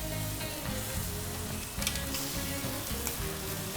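Chicken pieces sizzle loudly on a propane grill as they are flipped, a dense continuous frying hiss with a brief scrape and burst midway, close up with no voices.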